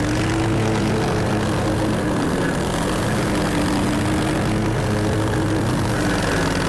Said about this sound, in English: A little too thick for the mower, but let it rip.